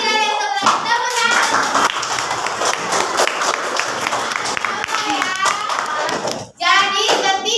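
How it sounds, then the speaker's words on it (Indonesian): Classroom applause for a student group, dense clapping that runs nearly the whole way through, with children's voices and talking mixed in before a short break and a final burst. "tepuk tangan untuk kelompok saklar"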